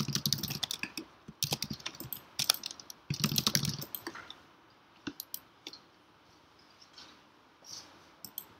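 Computer keyboard typing while a form's details are filled in, heard as bursts of quick, close clicking keystrokes with short pauses, denser early on and thinning to scattered taps toward the end.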